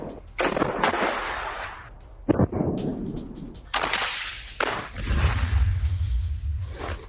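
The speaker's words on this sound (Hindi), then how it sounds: "जोरदार धमाका हुआ है।" A loud explosion as an Israeli bulldozer is destroyed in an attack: several sharp, heavy blasts and cracks in uneven bursts, followed by a deep rolling rumble, with no voices.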